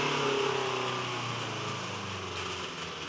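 A homemade rear-wheel-drive gasoline vehicle powered by a CBR 1000 motorcycle engine runs steadily and fairly loud, with a sustained engine drone that shifts slightly in pitch, heard alone with no talk.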